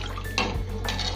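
Mutton biryani being stirred in a cooking pot, a short wet scrape and clink of a utensil against metal with soft liquid sloshing, close and alone over a steady low hum.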